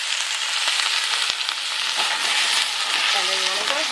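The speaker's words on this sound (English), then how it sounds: "And then you wanna go ahead and add your veggies in and just saute them." Vegetables sauté in olive oil in a frying pan with a loud, steady sizzle and occasional stirring, close up and continuous with no talk.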